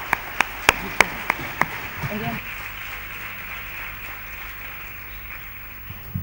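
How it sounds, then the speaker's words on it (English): Applause at a media ethics conference opens with a few loud, distinct claps near the microphone, then fades into a brief, faint patter from the audience, and a voice speaks briefly. "Can I take another applause for our speakers today?"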